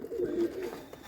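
A pen of desi pigeons with squabs, one with a white head, gives a short, close, clear coo that swells and fades within about a second, with nothing else heard.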